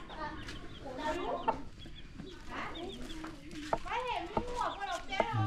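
A chicken clucks in short repeated bursts near a nest at a hillside Buddhist temple in Mae Hong Son, Thailand, with people talking over and between the calls.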